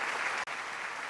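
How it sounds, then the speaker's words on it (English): Audience applause after a speech at a Korean War 70th anniversary commemoration, a steady dense clapping from a large crowd with one brief dip partway through. "please join me in offering another round of applause to Dr. Hak Ja-han Moon"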